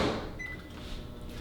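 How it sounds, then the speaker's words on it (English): A microwave oven runs to heat Thai red curry fish cakes, giving a steady, low mechanical hum with a faint high whine and no talking. "I'm going to put in the microwave for 30 seconds."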